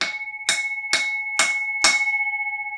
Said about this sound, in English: The Wheelock MBG624. Fire bell, which I can actually do this.